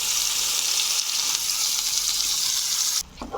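Spice paste fries in a pan with a little butter for a paneer dish, giving a loud, steady close-up sizzle that hisses continuously and then cuts off abruptly near the end, with no voices.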